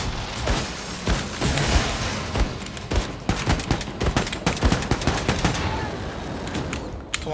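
Rapid gunfire from a charged weapon in the shooter Wolfenstein II rattles through the whole stretch as dense, loud bursts with booming impacts, sustained and close with no pauses.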